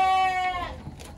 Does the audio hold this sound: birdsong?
no